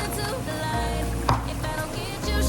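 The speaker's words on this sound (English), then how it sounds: "add all of your chopped veggies, which is your onion, your garlic and your peppers" Chopped onion, garlic and peppers frying in a pan of oil, a steady close sizzle with occasional stirring scrapes, no talking.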